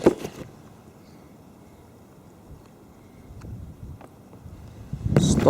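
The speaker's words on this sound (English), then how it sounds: "Stop it, wind." Gusty wind buffets the microphone on an outdoor walk in Singleton, with loud rumbling bursts at the start and end and a softer, steady blustery wash in between.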